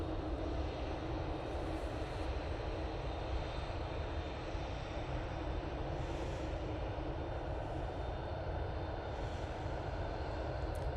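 An EasyJet Airbus A320-200 departing Manchester Airport for Belfast gives a steady, sustained jet engine roar, broad and constant throughout with no voices.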